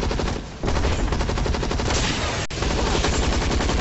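Rapid automatic gunfire from a video game fills the clip, dense and loud, with a brief lull near the start and a sharp crack midway.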